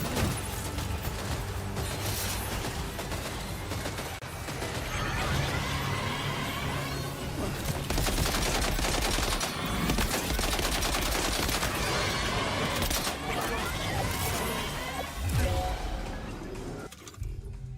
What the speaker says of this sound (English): Machine gun level 2.